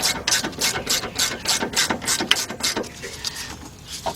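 A ratcheting wrench clicks in quick repeated bursts while tightening a rear brake bolt on a 2007 Chevy Tahoe, the pawl rattling close and fairly loud with brief pauses between strokes.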